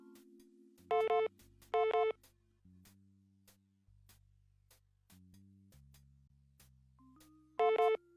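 A vid phone rings in the video game Tex Murphy: The Pandora Directive, three short electronic ring bursts over a shifting low synth music score.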